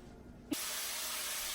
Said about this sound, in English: Okay, our oil is hot. We're gonna go ahead and add the meat to the oil.